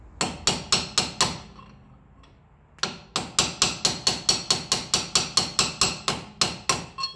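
Light hammer taps seat a shim into a 2018-2020 Ford F-150 limited-slip differential: a steady run of close, crisp metallic strikes, a short pause after about five hits, then roughly fifteen more evenly spaced taps.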